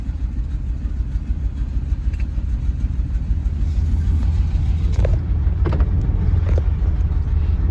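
A 1986 Chevrolet Caprice Brougham drives under its own power with a steady low engine and road rumble heard from inside the car. A few faint knocks and rattles sound over the rumble, and no one speaks.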